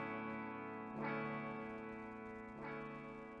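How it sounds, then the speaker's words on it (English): A clean electric guitar through a Fender-style clean amp tone plays sustained chords, each strum ringing out with echoing delay repeats and a wash of reverb; two strums a second and a half apart. "with probably the same amount of delay as before. And I've added reverb."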